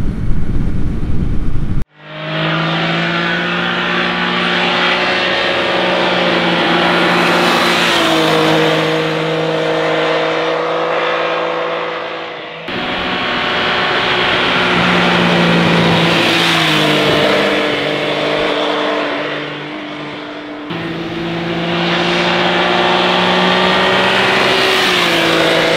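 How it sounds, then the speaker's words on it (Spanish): An MV Agusta Brutale 800 Rosso motorcycle engine revs hard and climbs quickly through the gears while ridden, loud and close, with brief drops between pulls and no speech. "El comportamiento de su motor me ha gustado mucho, porque tiene un carácter deportivo y sube muy rápido de vueltas"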